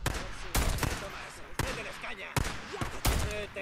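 Gunfire in the video game Days Gone: four sharp, loud shots at uneven intervals, each cracking out over a busy background of game sound and muffled voices.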